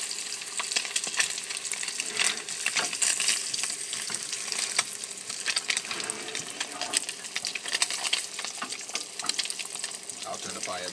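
Tilapia fillets pan-searing in hot oil over medium-to-high heat give a steady, close, crackling sizzle that runs unbroken throughout, with no voices.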